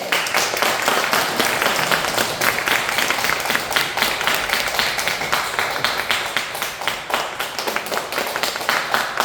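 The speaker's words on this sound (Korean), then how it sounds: "여러분들이 박수를 많이 쳐주세요. 네, 환영의 박수." Welcoming applause from an audience at a neighborhood church concert, a dense, steady patter of many hands clapping that continues unbroken and fairly close for the whole stretch.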